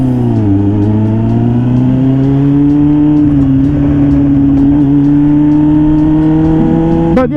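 A car engine holds a loud, steady drone that climbs slightly in pitch as it revs close by, heard from a motorcycle rider's recording on the road, with a sharp burst at the end.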